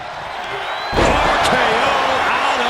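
A wrestling slam at a WCW Bash at the Beach event, a loud body impact hitting the mat about a second in, followed by sustained crowd roar and commentary talk.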